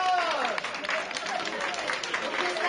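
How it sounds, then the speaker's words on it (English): Clapping from a group at a corporate team-building event, soft and a little distant, running steadily under nearby chatter and talk. "Can we give them a round of applause for"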